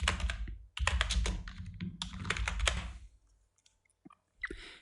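Fingers tap quickly on a computer keyboard in bursts of rapid clicking keystrokes, close and clear, then slow to a few scattered presses before another short flurry.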